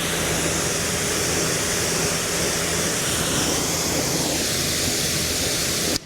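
Water runs steadily from a hose at three gallons per minute over ceramic-coated car panels, a continuous broadband splashing rush that stays even and close before cutting off abruptly at the very end.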